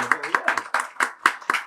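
A small audience at a round-table session on Smart IP–Max Planck Institute research gives brief, sparse applause: about eight evenly spaced claps from a few hands, close by, with a voice faintly alongside.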